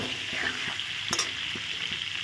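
Pieces of pointed gourd fry in hot oil, giving a continuous soft sizzle with faint crackles and an occasional scrape of the spatula, close up and with no talking.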